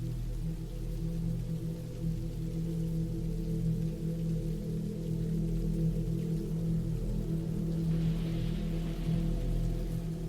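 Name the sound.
rain falling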